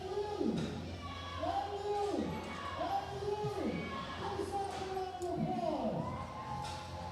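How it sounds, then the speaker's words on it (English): Crowd at a powerlifting state championship cheering and being hyped up, a dense, steady roar of many voices with swooping whoops and shouts repeating every second or so throughout. "Just love to hear Gino hyping up the crowd in the background"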